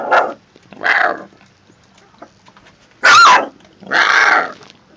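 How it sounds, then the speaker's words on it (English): A three-week-old pit bull puppy growls in four short, rough bursts, close and fairly loud, with brief pauses between them and no talking over it. "let me hear that little growl."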